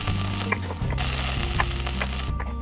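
Pork belly grilling in the Yakiniku Simulator video game, a constant loud sizzle with a low tonal hum of game music underneath and a few small clicks.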